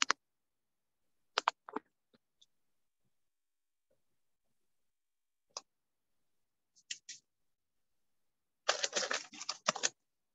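A few isolated keyboard clicks break long stretches of near silence, then a short, dense burst of typing follows, all close and fairly quiet.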